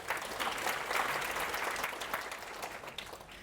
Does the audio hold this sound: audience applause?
yes